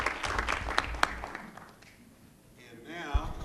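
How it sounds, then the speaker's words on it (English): City council meeting audience applauding, a short burst of scattered, distinct claps that thins out within two seconds, followed by a voice speaking. "give Summer a round of applause for all she does to help us get through this"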